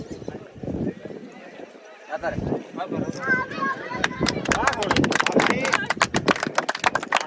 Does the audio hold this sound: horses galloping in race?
yes